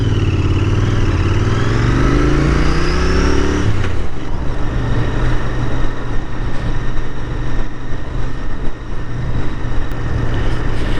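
Royal Enfield Interceptor motorcycle on a ride, a loud close engine revving up through the gears and then settling into a steady rumbling cruise with road and wind noise, no talking.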